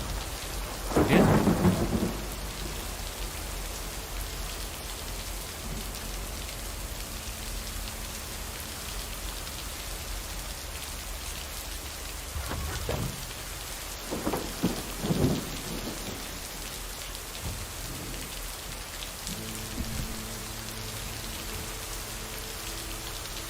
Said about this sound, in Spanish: Aquí va a pasar algo con la lluvia porque está cogiendo mucha fuerza, ¿eh? Está como muy presente la tormenta.